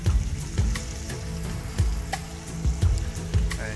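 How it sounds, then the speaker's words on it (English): Ginger garlic paste sautéing in a pan for pav bhaji, a soft steady sizzle broken by repeated sharp taps and scrapes of a spoon stirring, close and fairly quiet, with no talking. "And give it a saute for a few minutes."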